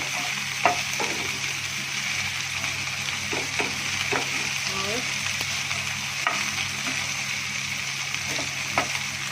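Okra (bhindi) fries and sizzles steadily in a pan, with a continuous hiss and occasional light stirring clicks, close and loud throughout with no talking.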